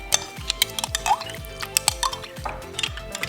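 A cleaning paste being mixed by hand for a burnt-on stove mess, with a utensil tapping and clinking against a container in quick irregular strokes, close up with no talking.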